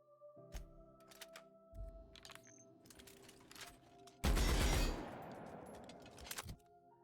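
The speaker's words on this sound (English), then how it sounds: "Heavy machine gun, huh?" A heavy machine gun fires in a video game as a dense, loud burst of about half a second, trailing into a rattling decay, amid scattered clicks and lighter game effects.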